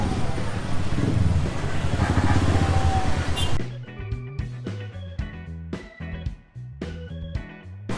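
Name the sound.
motorcycle riding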